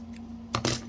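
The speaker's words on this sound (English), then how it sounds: "I'm going to cut it out a little bit more." Scissors cutting a paper flower shape with a jagged edge for a geode resin coaster, two short snipping bursts close by over a steady low hum, with no one talking.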